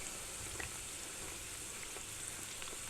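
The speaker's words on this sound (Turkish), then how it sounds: "İkişer ikişer de kızartabilirsiniz yer varsa. Eğer tavanız biraz daha büyükse." Börek pastries fry in plenty of hot oil in a pan, giving a soft, steady sizzle with faint crackles and pops throughout, close by and with no talking.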